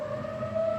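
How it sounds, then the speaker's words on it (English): A storm siren sounds during its monthly test, holding one steady wailing tone that comes across at a moderate distance and fairly faint, with no voices over it. "oh, storm sirens for the month."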